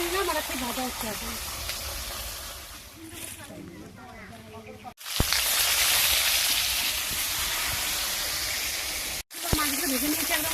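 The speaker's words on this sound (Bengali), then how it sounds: "উল্টে দিলাম আর একটু ভাজা হচ্ছে এখন।" Flipped pieces of katla fish fry on in mustard oil, a strong close sizzle that fills the middle stretch, with a voice talking before and after it.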